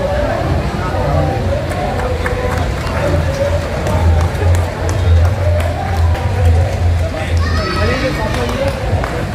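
A large conference audience at an international Arya gathering in Rohini, Delhi bursts into loud, sustained applause, with clapping and crowd cheering filling the hall, mixed with background voices.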